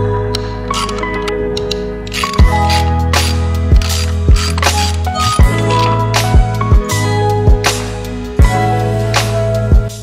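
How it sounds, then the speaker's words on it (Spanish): A ratchet wrench loosens the three 8 mm bolts that hold a motorcycle cover, giving loud, close, steady clicking with sharp knocks every second or so. "voy a quitar esta cubierta, ¿ok? Se sujeta por 3 tornillos que son medida 8 milímetros."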